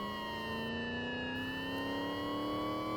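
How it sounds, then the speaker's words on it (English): A police car siren wails loud and continuously during a stunt car run, its steady tone gliding slowly with the engine running underneath. "we'll hit the siren on this run as well, just for fun"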